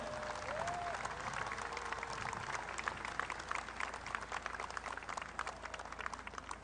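Large crowd applauding for President Bongbong Marcos Jr. at a public event in Manila, a sustained wash of clapping heard from a distance, with crowd murmur and a brief whistle-like tone early on.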